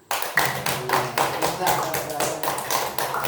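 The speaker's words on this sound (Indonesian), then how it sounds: "Tepuk tangan." An Indonesian primary-school class claps together on cue in a patterned rhythm of sharp, loud group claps, roughly a dozen strokes in quick, regular succession, close and clear in the room.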